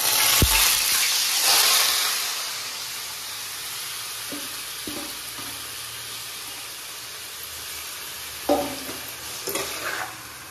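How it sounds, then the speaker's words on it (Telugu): Marinated chicken hits a hot pan for a chicken curry, giving a steady broadband frying sizzle that eases off over time, with scraping stirs and a few louder spoon clanks near the end, close and without talk. "సో మనం మ్యారినేట్ చేసి పెట్టుకున్న చికెన్ని యాడ్ చేసుకుందాం ఇప్పుడు"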